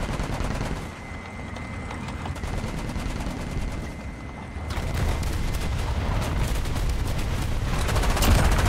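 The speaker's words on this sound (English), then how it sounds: "The MX30's shooting" An MX30 anti-aircraft gun in a video game fires in rapid sustained bursts, a dense roar of automatic gunfire that grows louder and heavier toward the end, with no voices.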